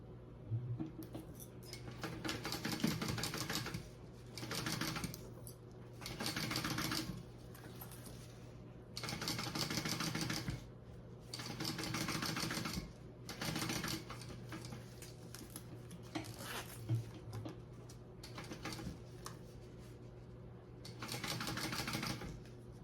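A sewing machine stitches a zipper panel onto a tote bag in repeated bursts of rapid mechanical whirring, several seconds each, separated by short pauses, heard close and fairly quiet with no talking.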